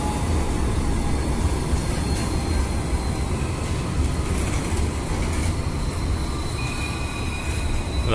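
A train pulls into a station in Sydney, a steady loud rumble of wheels on rails with faint squeals and a brief high whine, no talk.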